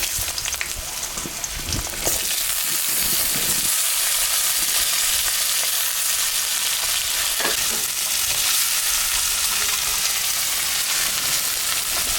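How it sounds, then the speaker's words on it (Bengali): Thinly sliced potatoes fry in hot oil with cumin tempering, a steady loud sizzle and crackle running throughout with occasional stirring scrapes, no voices. "আলুটা কেটে রেখেছি ঝিরি করে, এটা এখন আমি ভাজে নিই।"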